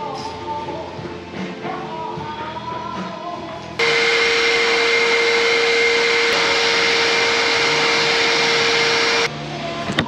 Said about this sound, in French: on va commencer par aspirer pour voir ce que ça donne